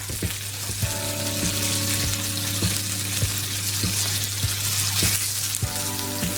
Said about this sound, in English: Lamb being browned off